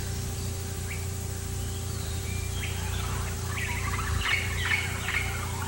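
A hummingbird gives faint, quick chirps and tweets that gather toward the end, over a constant low hum.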